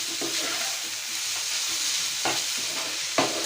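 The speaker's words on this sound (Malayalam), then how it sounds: "നമുക്കെല്ലാം ഒന്ന് ഇളക്കി കൊടുക്കാം കേട്ടോ" Semiya (vermicelli) kichadi stirred in a pan, a close scraping and sizzling with a few sharper clacks of the spoon near the end, no talk.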